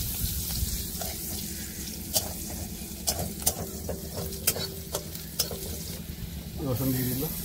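Onions frying in oil as they are stirred in a pan, a constant close sizzle broken by sharp scraping strokes of a utensil and a few clinks, no talking.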